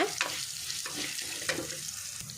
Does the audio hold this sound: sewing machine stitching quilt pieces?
no